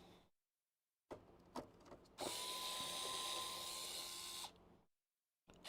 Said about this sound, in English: Let's start getting our screws out.